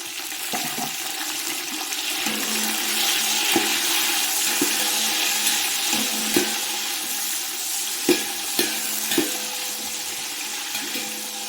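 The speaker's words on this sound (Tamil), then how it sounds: "தக்காளி ஒரு 2 நிமிஷம் வதங்கட்டும்" Tomatoes and small onions sauté in a pan for sambar rice, making a steady soft sizzle with occasional sharp utensil taps and stirring clinks, without any voice.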